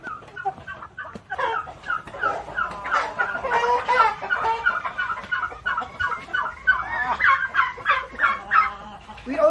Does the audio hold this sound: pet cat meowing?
no